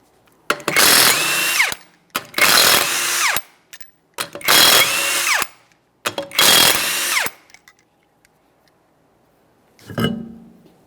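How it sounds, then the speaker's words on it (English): An impact tool removes the 21mm lug nuts from a 2014-2019 Toyota Corolla rear wheel in four loud, close bursts of rattling hammering, each about a second long, followed by a shorter fifth burst after a pause. "you're going to remove all 5 of your 21mm lug nuts and we can get the wheel off of here"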